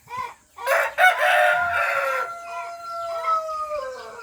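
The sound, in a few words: chickens clucking and rooster crowing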